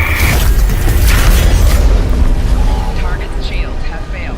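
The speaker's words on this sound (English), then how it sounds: "hydrogen rocket, commit!" A hydrogen rocket launches and explodes in Star Trek Online, a loud, booming blast with a rumbling roar that fills the opening seconds and then rolls off into a lingering decay under faint voices.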